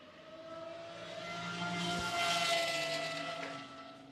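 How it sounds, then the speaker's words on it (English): A Pagani V12 race car passes on the Nürburgring track, a distant high-pitched engine wail that swells to a peak midway and fades again, faint and alone. "I can't stop just listening to that V12 engine."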